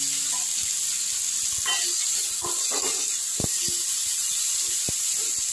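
Parboiled carrots and peas frying in oil for a quick bread-and-egg breakfast dish, a constant bright hiss with scattered sharp pops and clicks of stirring close by, no speech.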